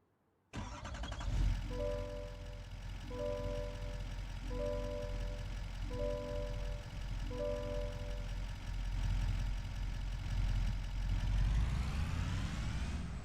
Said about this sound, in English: Now we're gonna go warm up our tractor again